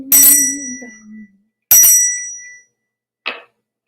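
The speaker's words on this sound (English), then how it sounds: "when the bells are sweetly ringing, ding dong, ding dong" Bells struck two separate times, each one bright and ringing with a long fading tail, and then a short, softer metallic ting.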